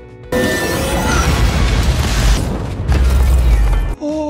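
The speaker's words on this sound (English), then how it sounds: "She then proceeded to show how powerful she was by destroying Thor's most iconic weapon" Mjolnir shattering in a Thor: Ragnarok film scene, a loud sustained booming crash with rumbling debris that cuts off abruptly, followed by a short tonal ring.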